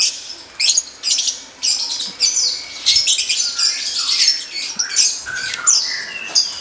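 Lovebird squawking up close, loud shrill chirps and squawks in rapid irregular bursts that continue throughout with no talk.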